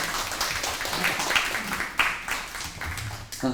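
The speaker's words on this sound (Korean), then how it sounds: "박수로 환영해 주시면 감사하겠습니다." An audience at a live Korean upcycling design talk show claps to welcome a guest, a short burst of scattered, moderately loud claps with some vocal murmur mixed in.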